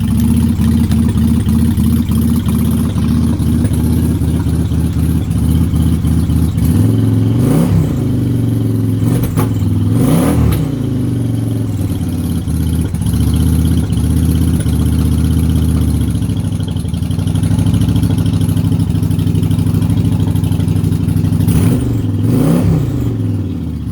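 A 2004 Yamaha V-Star 1100 motorcycle engine on a cold start, idling loud and close with a steady low rumble and a few brief revs rising and falling.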